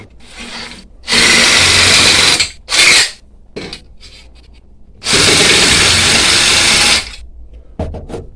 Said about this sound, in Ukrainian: Ну от, воно його ріже, працює, все добре.